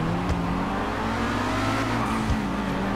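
A Toyota Supra's engine drones steadily in GTA 5, a continuous close motor hum with slight pitch changes and a brief tire noise, no talking.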